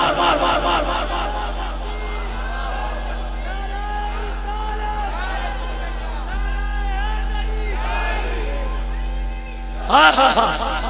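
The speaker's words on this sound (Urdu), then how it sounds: "یہ غریبوں کے نعرے ہیں۔" Large crowd chanting religious slogans in unison during a 2023 Islamic speech gathering, a loud, continuous wall of voices throughout that swells into a sharper outburst near the end.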